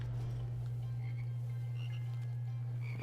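Frogs in the shooter Immortal Redneck croak in a steady, loud, low drone, with faint higher chirps scattered over it.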